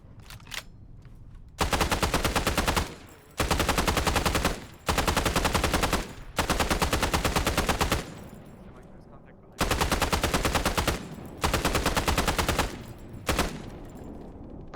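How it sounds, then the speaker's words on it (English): Sustained machine-gun bursts in a military video game fire in several long, loud runs of rapid shots. Short pauses separate the bursts. "Sat in the middle of the field with an MG that almost killed me"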